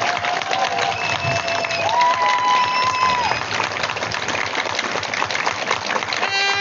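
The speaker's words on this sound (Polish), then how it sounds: "wielkie brawa dla olimpijki i jeszcze raz." Steady applause from a crowd welcoming home Olympic silver medallist Jolanta Ogar-Hill in Łysa Góra, a dense wash of clapping lasting throughout, with a few faint whistles or tonal sounds rising above it.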